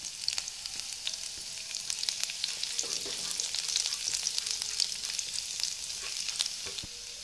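Chopped ginger, green chilli and garlic sizzle steadily in hot oil in a pan, a continuous bright frying hiss with occasional stirring scrapes, close and fairly loud with no talking.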